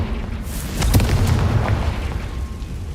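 A Confringo spell explodes in Hogwarts Legacy, a deep booming blast that rumbles and fades out over a couple of seconds, loud with no talking.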